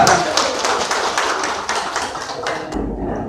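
Audience applause for a winner at a Gayo tourism promotion presentation competition, steady dense clapping throughout, close and fairly loud, stopping abruptly near the end.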